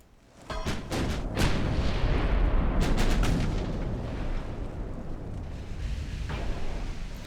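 Heavy naval guns in the Ultimate Admiral: Dreadnoughts warship game open fire on a transport ship: a loud burst of deep, booming cannon blasts, then a steady rumble of repeated shots and echoing thunder that carries through the whole stretch.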